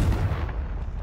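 A Confringo spell explosion in the video game Hogwarts Legacy, a loud booming blast with rumbling low-end impact that carries through the whole brief moment, no voices.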